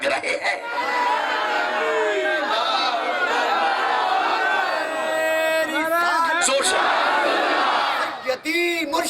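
Crowd at a Millad religious gathering in Baldia chanting slogans: many voices shout together in loud, sustained unison, with rhythmic waves and echoing cheers rising and falling.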